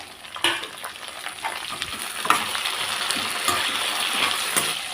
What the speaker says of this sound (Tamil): நல்லா வதங்கட்டும் தக்காளி